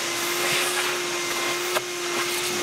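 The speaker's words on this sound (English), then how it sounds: "Vacuum up." A vacuum cleaner runs steadily while cleaning the fretboard of an Ernie Ball Music Man Sterling guitar, a loud continuous whine and rushing hum with a brief bump partway through.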